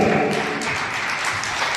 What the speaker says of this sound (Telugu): చప్పట్లు కొట్టండి జిఎస్ గారు